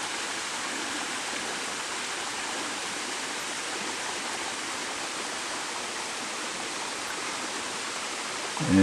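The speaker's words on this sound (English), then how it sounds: "following this brook, the Hell Brook, which descends at an equally rapid rate" Hell Brook, a steep mountain stream on Mt. Mansfield, rushes down over rocks in a steady, dense hiss of water. It sounds close and unbroken throughout, with a brief knock right at the end.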